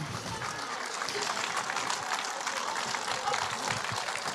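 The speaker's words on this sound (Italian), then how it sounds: "Un applauso per il tenore nulesu" Sustained applause from a crowd at a live tenor singing performance, dense and steady throughout, with some voices mixed into the clapping.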